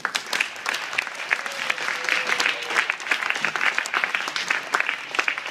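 A crowd applauds steadily as a jazz band is welcomed to the stage in Indianola, many hands clapping in a dense, continuous patter that holds at an even level throughout.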